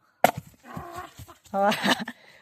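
A dog on a village farm barks in a few short bursts at close range, mixed in with people talking loudly and excitedly, among working livestock nearby.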